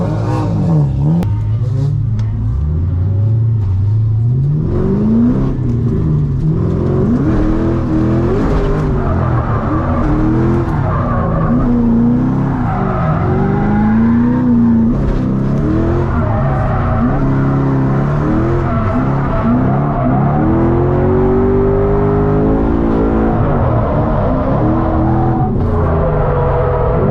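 A Ford Mustang drift car on a track lap, engine revving hard and rising and falling in pitch through gear changes, with tyre squeal and skidding woven in, loud and continuous.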